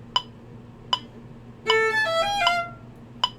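On viola, a few sharp plucked or tapped notes, then a short bowed passage with overlapping notes, then another single tap at the end.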